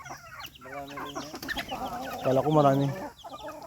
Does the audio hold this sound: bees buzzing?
no